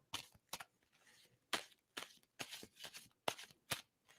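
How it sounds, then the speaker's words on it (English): Tarot cards being shuffled by hand in quick, crisp riffling bursts, about eight separate flurries with short pauses between, close and fairly quiet. "Tell me to stop shuffling."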